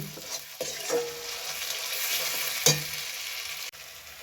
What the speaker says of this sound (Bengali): তেল দিয়ে ভালো করে মশলাটাকে কষে দেখুন